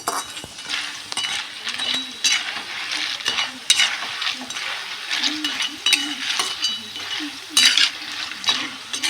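Banana slices frying in hot oil with salt water and turmeric added, a steady close sizzle with bubbling crackle and occasional stirring scrapes throughout, no talking.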